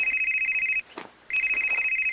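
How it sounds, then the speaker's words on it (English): A stock telephone ring sound effect plays loud and close in two electronic trill bursts separated by a short gap, with faint background noise in the pause. "He always uses that fucking stock phone sound effect, even if it's a fucking smartphone"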